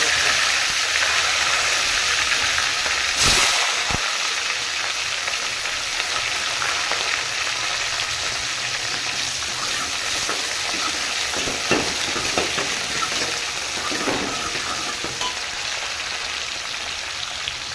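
Onions and curry leaves fry loudly in hot oil in a pan for a vegetable kurma, a dense, continuous sizzle like heavy rain, with one sharp clatter of a utensil near the start.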